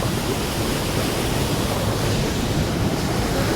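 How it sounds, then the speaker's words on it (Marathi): Strong, fast-flowing water rushes loudly and continuously, a dense broadband roar held close to the microphone with no voices. "पाणी खूप जास्त चाललंय, बघू शकता इथं खतरनाक पाणी चाललंय"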